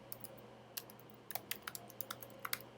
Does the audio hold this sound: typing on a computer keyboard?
yes